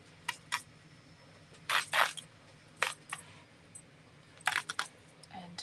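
Scissors snip through a yellow-striped piece of craft material in a few separate, sharp, crisp cuts with pauses between them, close by and quiet, with no talking.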